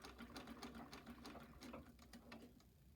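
A Singer 66-6 treadle sewing machine runs with a rapid, even stitching clatter and a low hum underneath, quiet and close, gradually slowing near the end.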